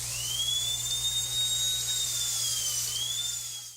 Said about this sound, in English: I also added this dentist's drill